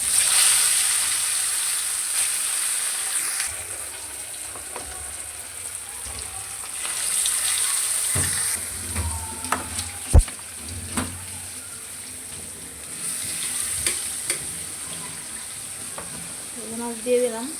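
Fish sizzles in hot oil in a wok, a steady broad fry with occasional sharper pops and spatters, heard up close throughout the long stretch with no talk over it.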